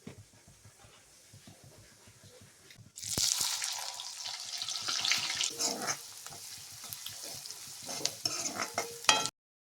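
Onion poha (kande poha) stirred in a pan at home: soft scraping at first, then from about three seconds a louder, steady stir with light sizzling and irregular clicks of the spoon against the pan.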